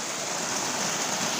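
Water seeping and trickling out of a hole in a rock face on a slowly sliding hillside, a steady, close hiss of running water with no voices.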